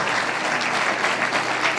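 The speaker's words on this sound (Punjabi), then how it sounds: "ਤਾਲੀ ਮਾਰੀਏ ਜ਼ੋਰ ਦੇ ਨਾਲ" A church congregation at a sermon claps loudly and steadily, dense continuous applause filling the whole short stretch, close and even in level.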